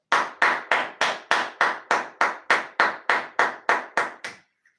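During a live online class on equations, about fourteen evenly spaced claps ring out one after another in a steady rhythm, each sharp and close, with no talk over them before the sound stops.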